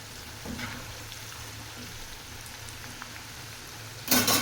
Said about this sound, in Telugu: ఇప్పుడు ఇవి మంచి క్రిస్ప్గా అయ్యే వరకు వేయించుకోవాలి